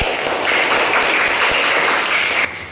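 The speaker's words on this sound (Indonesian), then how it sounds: "Berikan tepuk tangan untuk cara ini." Sustained applause from a classroom of students during a mathematics lesson, loud and steady for nearly three seconds before stopping abruptly.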